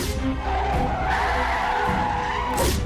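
A car skids to a stop on a road, a loud sustained tire screech over engine rumble lasting nearly three seconds, with a sharp squeal swelling again at the end.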